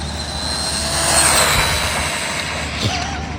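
A Rlaarlo 917 RC car runs at speed on its stock battery with optional gearing. A loud, continuous high-pitched electric motor whine holds steady, with a brief pitch sweep near the end and no talk.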